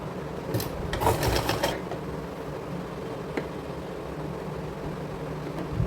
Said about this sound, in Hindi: सिलाई लगा देंगे